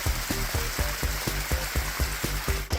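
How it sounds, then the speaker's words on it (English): Rain pattering steadily on a surface during desert monsoon season, a dense continuous hiss with a regular low thumping pulse running underneath, fairly close and loud, with no voices. "So this is the exciting shot of our rain from probably a ½ inch."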